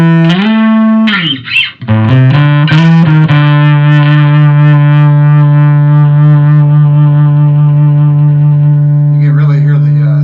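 Bass guitar through a Tech 21 SansAmp programmable distortion preamp, a few short plucked notes with string squeaks, then one loud sustained distorted note ringing out with rich overtones, a brief scrape near the end.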